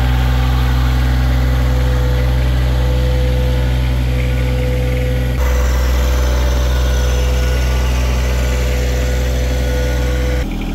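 Tractor engine running at low speed, a loud steady idling drone with strong low hum that continues unbroken, shifting slightly partway through, with no talking.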